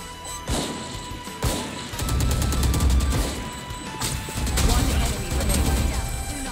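Gunshots in a first-person shooter round playing Sage, rapid rattling bursts of fire building after a few isolated sharp reports, fairly close and loud, with players talking at times.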